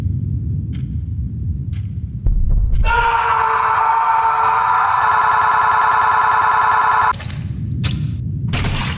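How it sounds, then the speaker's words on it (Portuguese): A loud stock scream sound effect in an analog horror piece, a sustained harsh cry lasting about five seconds, set between stretches of low rumbling noise and brief clicks. "Esse grito Stock Sound me fez rir da primeira vez que eu assisti"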